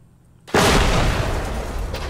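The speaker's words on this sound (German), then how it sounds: "Springst du die halbe Bude in die Luft" Sudden loud blast in the Generation Zero video game, a sharp burst followed by a sustained rumbling roar that slowly decays, with no talking.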